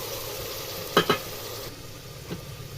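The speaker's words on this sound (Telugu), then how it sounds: "ఉల్లిపాయ పేస్ట్ వేస్తున్నాం." Onion paste for a goat tripe (boti) curry goes into a hot pan over already-softened onions, salt and turmeric. A steady sizzling hiss follows, with a couple of brief stirring scrapes near the start and one fainter one later. No voices are heard.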